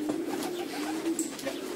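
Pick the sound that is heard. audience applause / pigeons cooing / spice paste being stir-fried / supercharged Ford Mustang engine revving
pigeons cooing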